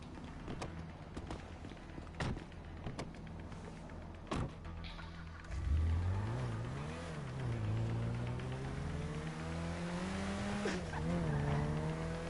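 A car driven in Grand Theft Auto V, its engine revving up and down with rising and falling pitch after a few sharp clicks and knocks, the motor drone steady and fairly close.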